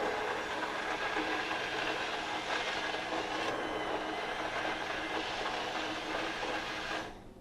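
A steady, loud whirring drone of a Bamix immersion blender with a thick chopper blade blending cauliflower soup runs nonstop for about seven seconds, then cuts off abruptly at the end.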